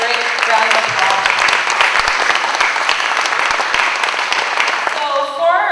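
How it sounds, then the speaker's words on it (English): Loud, sustained applause for graduating students at an Urban Aboriginal Alternative High School graduation ceremony, dense clapping with some crowd voices mixed in, fading slightly right at the end. "let's give this group of students another great round of applause"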